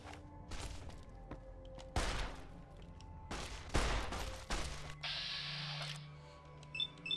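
Gunfire in the video game Fallout: New Vegas: several separate sharp shots spaced a second or so apart, followed by clicking and mechanical reload-like sounds, moderately quiet and without speech.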